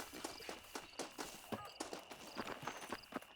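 Horse hooves clop along at a steady walking pace in Red Dead Redemption 2, a close, even rhythm of soft thuds over faint background ambience.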